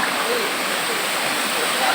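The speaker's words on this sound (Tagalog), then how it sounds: "umaagos-agos ang tubig" Water in a stream flows in a steady, broad hiss, loud and close, unbroken for the full moment.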